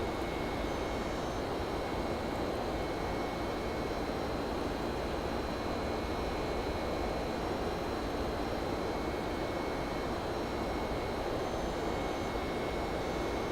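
Jet engines of a Boeing 727 in flight in the X-Plane 10 game give a steady, dense cabin roar with a faint high whine, unchanging and unbroken throughout.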